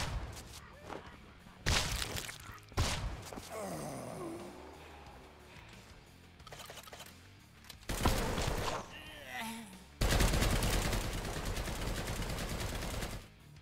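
Gunfire in a video game with a Doom and Van Helsing feel, shots fired into the air: loud bursts and rattling volleys separated by quieter stretches, ending in a long sustained barrage.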